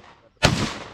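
A single sharp, loud gunshot from an SA-58 rifle on a tactical shooting training range, cracking suddenly after a near-silent pause and decaying with a brief echo.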